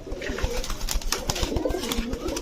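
Several pigeons at a breeder's loft coo continuously nearby, their low rolling calls layered over one another with faint fluttery bursts throughout.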